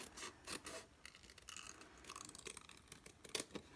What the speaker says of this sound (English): And then I will trim the edge there with my paper snips.